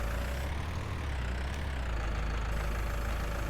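A tractor engine idling in Farming Simulator, a steady, close low hum with a faint high whine that holds unchanged throughout.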